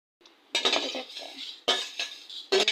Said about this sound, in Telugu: పచ్చిశనగపప్పుని ముందుగా వేసిన అన్నీ ఒక్కొక్కటి పొడి పొడిగా వేయించుకోవాలండి